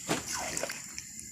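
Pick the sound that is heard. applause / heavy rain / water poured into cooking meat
water poured into cooking meat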